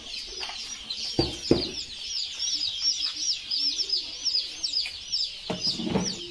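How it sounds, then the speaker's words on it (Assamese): Local chicken chicks at a poultry hatchery keep up a dense, high-pitched peeping, many tiny overlapping calls at once, with a few dull knocks and thumps of handling during packing. "আমাৰ লোকেল হাঁহ আৰু লোকেল মুৰ্গী।"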